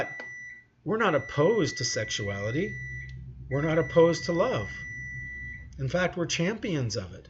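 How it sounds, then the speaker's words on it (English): A thin, steady electronic buzzer tone sounds in long stretches behind someone speaking, faint and continuous under his voice. "you can hear my buzzer going off in the background"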